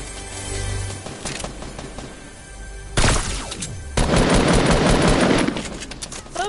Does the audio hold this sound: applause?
no